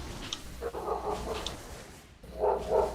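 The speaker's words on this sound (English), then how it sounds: "I can hear the distant barking." A pet dog barks in the distance, a few muffled woofs spaced over a few seconds beneath a low background rumble, heard during a casual online gaming stream.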